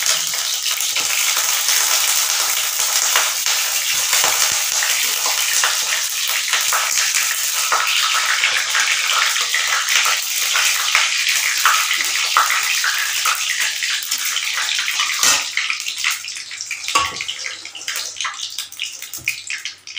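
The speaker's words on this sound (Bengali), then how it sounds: "সর্ষের তেল দেওয়ার পর দুটো তেজপাতা ছেড়ে দিলাম। তার মধ্যে দিলাম পাঁচফোড়ন" Bay leaves and panch phoron sizzle in hot mustard oil, a steady bright crackling hiss that stays loud and continuous, with a few clinks of a utensil near the end.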